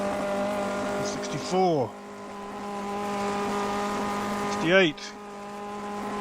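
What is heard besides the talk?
1958 F1 race car engine at Spa, racing video game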